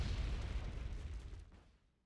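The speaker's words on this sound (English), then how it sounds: "Your artillery fire." Artillery fire explodes in Wargame: Red Dragon, a heavy rumbling boom that rolls on loudly before fading away into quiet within about two seconds.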